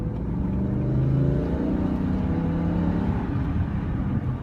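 An E60 BMW M5 driving up a mountain road, its engine pulling with a steady, close, rising note under gentle acceleration, heard alone.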